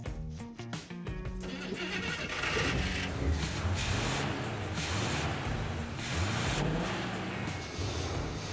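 A Cadillac Eldorado engine started on ether catches and runs at a steady, moderately loud level, with some revving.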